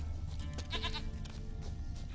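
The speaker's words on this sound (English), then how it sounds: "I hear the goat." Goat bleating in the video game The Witcher 3, a couple of short wavering bleats over a low background drone, fairly quiet.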